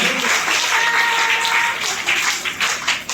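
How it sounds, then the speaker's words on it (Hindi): Audience applause at a school quiz event, a loud burst of many hands clapping that thins into scattered claps near the end. "एक बार जोरदार तालियां होंगे।"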